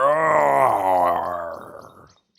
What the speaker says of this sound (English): Like the other big cats, they have a great roar.